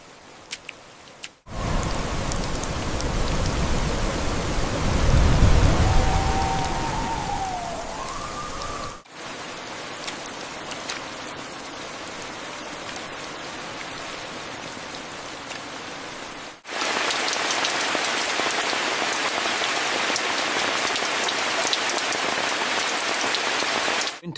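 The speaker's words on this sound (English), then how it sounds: "The rain is getting heavier." Heavy rain pours down steadily in an old Himalayan village, a dense, loud hiss of drops hitting surfaces that persists throughout with brief cuts between stretches and no voices.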